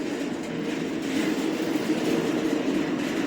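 A maglev train moves at a tourist station in Fenghuang, Hunan, China, producing a steady low rumbling hum with faint rattles, continuous and fairly close, without voices.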